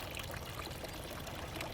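Water from a backyard garden water feature trickling and splashing steadily, a soft, continuous, even stream of faint liquid patter with no talking.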